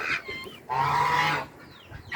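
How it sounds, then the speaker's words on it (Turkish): Geese honk in a garden: a short call, then one loud, drawn-out honk close by, followed by quieter calls trailing off, with no talking. "Kazlar çok güzel ya."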